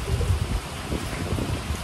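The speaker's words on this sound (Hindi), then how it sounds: "और आज हो रही है बहुत भयंकर बारिश" Very heavy rain roars steadily and close, a dense, continuous wash of sound with no voices.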